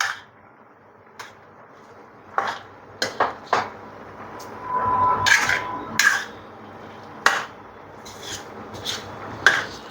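A spoon scrapes and clatters against a pan while gajar halwa, a carrot sweet, is mixed. Sharp metallic knocks come at irregular intervals, with a stretch of steady scraping in the middle, and there is no talk.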